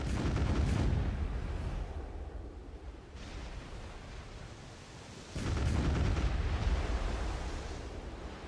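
Sci-fi weapon fire in Destiny 2, two heavy booming bursts separated by a stretch of rumbling, noisy battle din, fairly loud with no voices.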